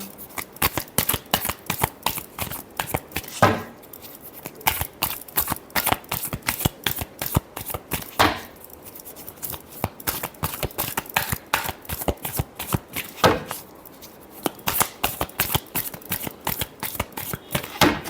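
A deck of tarot cards being shuffled by hand, a rapid run of crisp riffling flicks and slaps close to the ear, repeated in bursts with brief pauses, with no talking.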